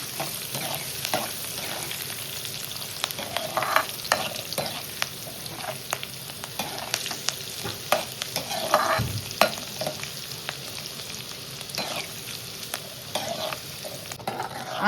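Onion pieces and curry leaves frying in a pan for a homemade tomato pachadi, a steady soft sizzle with scattered stirring scrapes and taps throughout, close and fairly quiet, no voices.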